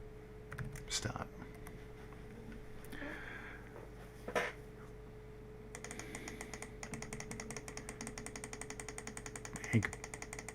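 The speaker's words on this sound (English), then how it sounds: "You could probably hear that clicking. Yeah, I'm just spamming clicks" A computer mouse is clicked rapidly during game prototyping: a faint, fast, even stream of clicks fills the second half, with a few scattered clicks and some talk earlier.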